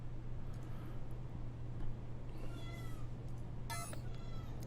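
A house cat meows in a home office, two or three faint, thin cries over a steady low electrical hum, with no voices.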